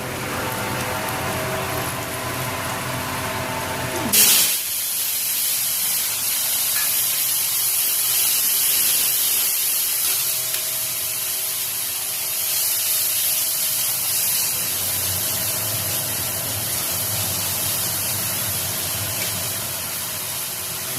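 A paste of ground spices mixed with water hits hot oil and bursts into a loud hiss of sizzling, settling into a steady, fairly strong frying crackle with no talk.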